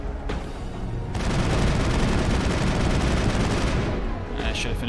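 Rapid, sustained gunfire from the video game Mass Effect, a dense, loud burst of shots that starts after a brief opening shot and runs for about three seconds before tapering into quieter game sounds.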